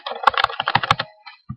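Computer keyboard typing while entering DarkBASIC Pro code, a quick close burst of about a dozen crisp key clicks, then a short pause and a couple of final taps.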